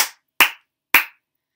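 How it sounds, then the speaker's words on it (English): Three sharp hand claps, close and loud, spaced unevenly with silence between them. "Give yourself 3 claps"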